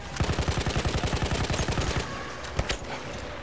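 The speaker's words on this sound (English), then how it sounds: "Who are they shooting at?" Rapid automatic gunfire from a Battlefield 1 campaign battle, a fast burst of about twenty shots for two seconds followed by a few scattered louder single shots, with no talk.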